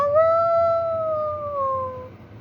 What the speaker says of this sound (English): he'd hear the howl of a beagle deep in the woods